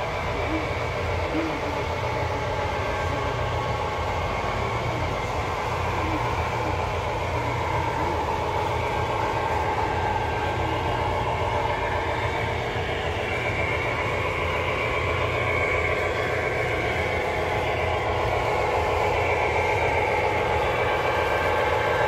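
A sound-equipped model train locomotive rolls around a museum layout, producing a continuous engine drone with rail rumble that stays steady and fairly close throughout.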